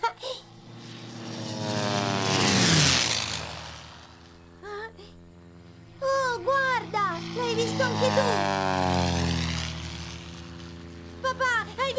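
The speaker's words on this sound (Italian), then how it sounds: "hai visto quell'aereo? L'ho visto! Hai sentito il rumore che faceva?" A propeller airplane flies overhead in the Caillou cartoon, its drone swelling as it nears, peaking, then fading away, after which a child and an adult talk.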